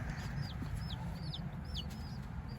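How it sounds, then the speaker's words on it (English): Chickens on a small farm clucking softly with short chirpy calls, faint and steady over a low rumbling background. "So these are our chickens."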